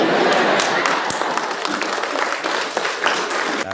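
A live audience at a Gujarati comedy show breaks into loud, sustained applause, a thick wash of many hands clapping at once without pause.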